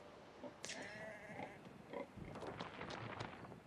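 Pigs oinking in the farm-building game Anno 1800: faint, scattered grunts and a few higher squeals over a low, steady ambient bed of game sound.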